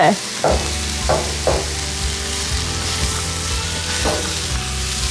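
Food fries in a pan in a van kitchen, a steady loud sizzle with several distinct scraping stirring strokes breaking through at intervals.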